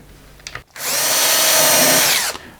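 A power drill bores through wood during bench assembly, whirring loud and steady at close range for about two seconds after a few small handling clicks, then cutting off.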